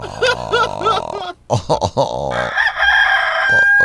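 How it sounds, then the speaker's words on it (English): Rooster crowing in loud, drawn-out calls, with bursts of other sound between them and a bright sustained tone rising toward the end. "Get that rooster out of here."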